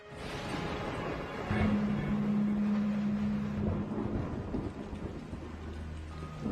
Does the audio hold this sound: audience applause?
no